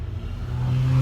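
Car engine close by, growing louder and revving as it passes very near, with a rising low engine tone and no speech.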